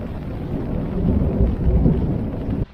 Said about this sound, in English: there's thunder happening